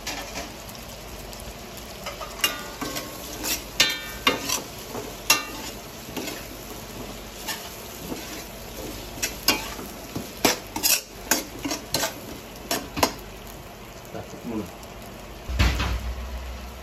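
Vegetables being stirred and fried in a home kitchen pan while cooking chicken afritada, with repeated clinks of a utensil against the pan over a faint steady sizzle and no talking.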